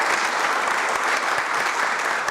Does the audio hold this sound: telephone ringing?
no